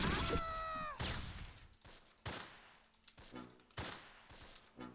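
Gunfire in the Close Combat war video game, a few loud bursts of shots spaced across a few seconds, preceded by a brief whistling tone.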